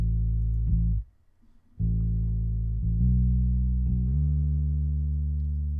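Isolated low-frequency bass guitar track passed through a 200 Hz filter, playing deep sustained notes alone with a brief gap before the line resumes, steady and loud with no voices.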